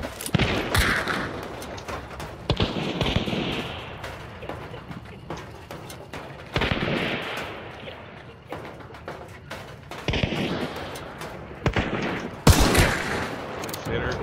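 Gunfire from the video game Hunt: Showdown, several sharp shots scattered through the stretch, some close and loud, with a voice talking between them.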